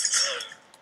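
Glass shatters and clinks in the ragdoll video game Happy Wheels, a bright crackling burst that fades over under a second, with a faint final tinkle.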